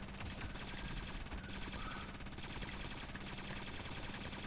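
Continuous rapid gunfire plays throughout in the video game Ravenfield, dense and rattling like machine guns, at a fairly low, steady level.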